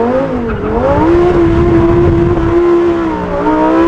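A Lamborghini (R8/Gallardo/Huracán type) with an aftermarket exhaust and valve controller cruises in seventh gear, its loud, close, droning exhaust tone rising and falling slightly in pitch as the car drives steadily.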